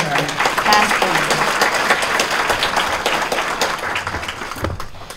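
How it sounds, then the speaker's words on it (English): An awards ceremony audience applauds steadily for several seconds, many hands clapping at once before the sound thins out near the end. "how about a round of applause for our past winners?"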